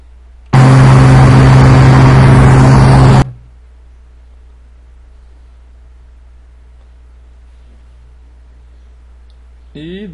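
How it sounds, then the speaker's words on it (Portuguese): An aircraft engine in Microsoft Flight Simulator X roars at full throttle for about three seconds, a loud broadband blast that cuts off abruptly, leaving a quiet steady hum. "Eu vou dar um máximo de potência aqui na aeronave"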